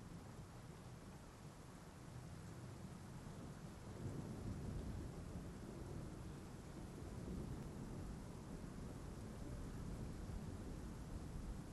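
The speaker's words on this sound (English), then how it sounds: "The wet sound from just all the rain" Steady, dense rainfall in the video game Bloodborne, a constant hiss with a low rumbling undertone of distant thunder swelling slightly partway through, no voices.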